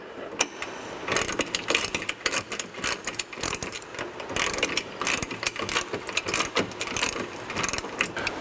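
A ratchet cranks a bracket bolt tight on a truck's Lund 5-inch oval nerf bar mounting, giving rapid, close, continuous clicking bursts with brief pauses between strokes and no talking.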